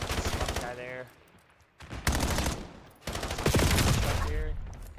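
Rapid automatic gunfire in Call of Duty 4 during a competitive 4v4 regional playoff match, loud bursts of shots with a brief lull, heard under a commentator's voice.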